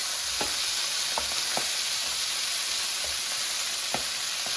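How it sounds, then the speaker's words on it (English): Italian sausages fry in a pan with a steady, close sizzle and hiss, broken by a few soft scraping knocks as the links are turned and rolled. "So continue turning the sausages."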